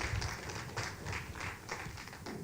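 An audience gives a round of applause at an ICT roadshow event in St. Vincent and the Grenadines, a short burst of many hands clapping steadily in a hall.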